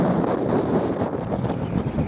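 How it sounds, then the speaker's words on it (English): Strong wind gusting across the exposed summit of Black Combe in South West Cumbria, buffeting the microphone with a steady, loud roar and low rumble that continues without a break and with no voices. "Very windy day"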